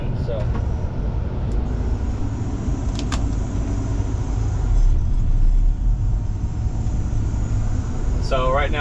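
Low, steady rumble of a combine harvester running with its separator engaged, heard from inside the cab, loud and continuous with a person talking over it.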